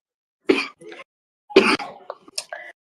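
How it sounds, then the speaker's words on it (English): Two bouts of coughing, near and fairly loud: a sharp cough with a short follow-up, then a second fit of several rough coughs after a pause. "So just excuse me coughing from time to time."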